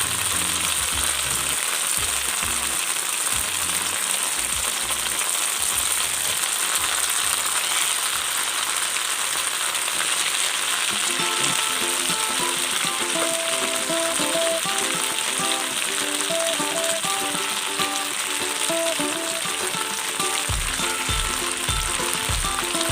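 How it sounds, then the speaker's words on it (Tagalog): Fish sizzles and fries loudly in a hot pan for caldereta, a dense, continuous crackle with intermittent stirring and clinking, close up. "Tapos mga kahapi, lagay na po natin yung isda po natin."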